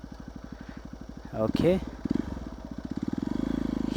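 A Hero XPulse motorcycle with an Akrapovic exhaust is started up: steady pulsing cranking, a brief revving burst as it fires, then an even, throbbing idle close by, with a short spoken word over it.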